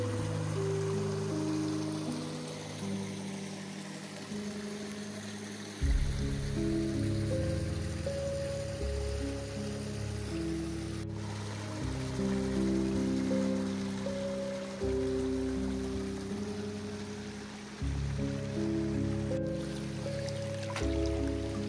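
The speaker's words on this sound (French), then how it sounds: "Le ruisseau continue là-bas." A forest stream flowing steadily over rocks, a continuous close trickling and babbling that holds at an even level throughout, with no voices.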